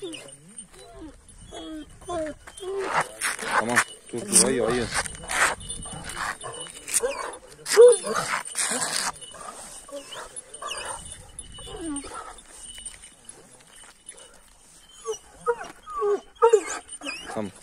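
Dogs whimper, yip and bark in short bursts close by, mixed with people talking over them.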